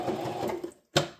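A sewing machine runs in a steady whirring burst while stitching a Y2K-style heart purse with ribbon, stops for a short pause, then gives one more brief loud burst, close up with no talking.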